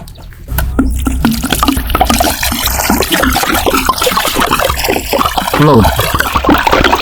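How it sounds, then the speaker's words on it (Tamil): Water is poured over fish, splashing and trickling steadily, mixed with nearby speech throughout. "இப்போ தண்ணி ஊற்று"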